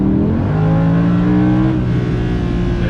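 A race car engine in a racing video game revs and accelerates with rising harmonic tones, dips briefly as it shifts, then climbs again, loud and steady with no talking.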